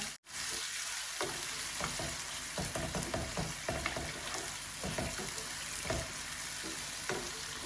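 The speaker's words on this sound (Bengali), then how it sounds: "এখন আমি বিরাট বড় একটা অনিয়ন আমি সুন্দর করে খাটিয়ে নিছি, একটু গোল্ডেন ব্রাউন করবো।" A large chopped onion fries in hot oil in a home kitchen, crackling in a continuous sizzle with frequent stirring scrapes and clatters, close and steady throughout after a brief dropout at the start.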